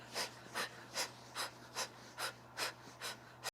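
Heavy rhythmic breathing during a continuous workout, about nine even breaths, close and airy, each a forceful exhale rising and falling in a steady pace over a faint low hum.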